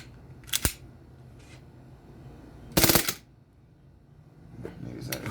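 A Crosman P1 air gun set to full auto gives a few short, sharp mechanical bursts, one louder rapid rattle in the middle, separated by quiet gaps.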